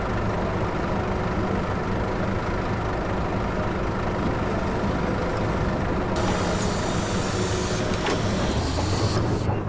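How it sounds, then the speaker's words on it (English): Bus engine in The Bus simulator game (TML update 3.3), driving through a storm on icy roads: a steady, loud low drone runs throughout, with brighter hissing and rattling layered in during the second half. "Listen to that engine though, it sounds wicked, doesn't it?"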